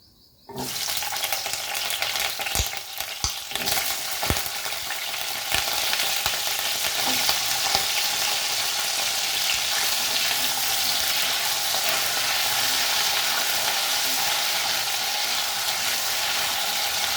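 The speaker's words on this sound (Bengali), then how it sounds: "আলুগুলো লাল লাল করে ভাজা হয়ে গেছে" Potatoes fry in oil for a Bengali dhokar dalna, making a loud, continuous close-up sizzle with scraping stir noises and clatter near the start.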